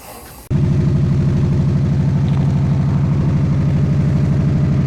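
A Ford Mustang Dark Horse, freshly flashed with a tune, kicks into a loud, steady engine drone after a short lower lead-in, holding an even, throbbing idle close by with no voices.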